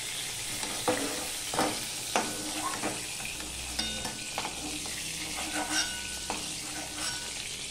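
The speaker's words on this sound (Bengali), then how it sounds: "পটলগুলো ঠিক এইভাবে ভেজে নিয়েছি।" Pointed gourd pieces fry in oil in a pan with a continuous bright sizzle, broken by repeated scraping and stirring strokes of a spatula against the metal, close and fairly loud with no voices.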